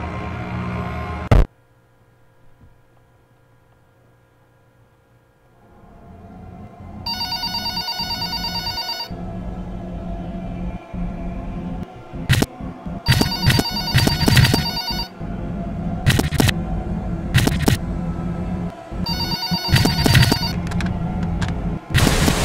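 A telephone rings repeatedly in the horror video game FNAN 2, the electronic ring tone arriving in loud bursts after a quiet opening, with no talking.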